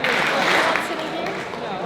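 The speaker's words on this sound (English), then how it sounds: "Can you hear me clap five?" Audience at an education conference keynote clapping together, a dense continuous wash of applause without distinct separate claps.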